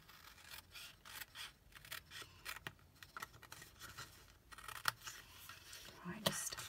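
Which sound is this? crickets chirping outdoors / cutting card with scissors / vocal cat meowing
cutting card with scissors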